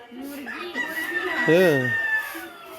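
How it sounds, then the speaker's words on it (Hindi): A hen clucks and calls with rising, wavering notes near the mic, part of a busy rural courtyard soundscape, with a voice talking over it. "मुर्गी है।"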